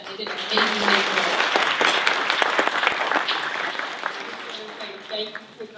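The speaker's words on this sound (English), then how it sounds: "Clap it up for them." Applause from guests at the annual Green Tie Gala, a full, sustained round of clapping and a few cheers that carries on for several seconds before tapering off, with a speaker's voice faintly underneath.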